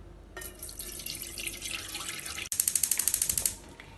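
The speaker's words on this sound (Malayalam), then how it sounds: "ഇത് അടുപ്പത്ത് ഒരു പാത്രത്തിലേക്ക് ഒഴിക്കാം." Coconut milk is poured from a bowl into a pot on the stove, giving a continuous liquid gush, then a brief splashing, bubbling burst near the end.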